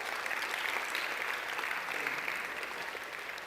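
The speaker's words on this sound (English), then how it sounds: "Give these guys a big round of applause." A crowd claps steadily for a few seconds, bright and continuous, fading slightly toward the end.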